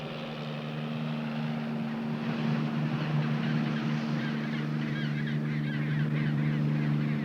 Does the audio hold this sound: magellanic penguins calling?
yes